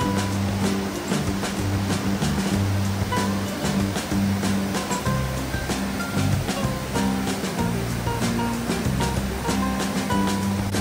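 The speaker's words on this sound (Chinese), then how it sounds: "我没想到冬天的树正瀑布居然有这么大的水量啊" Winter flow at Shuzheng Waterfall in Jiuzhaigou: a continuous, dense rushing roar of abundant cascading water, even and fairly loud for the whole stretch, with no speech.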